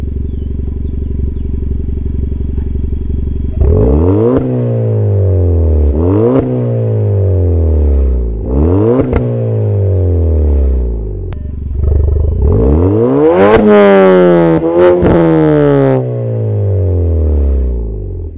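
A Volkswagen Polo GTS engine with an aftermarket exhaust, valve open, idles low, then is revved hard several times in quick bursts, each one a loud, raspy roar. A final, bigger rev ends it.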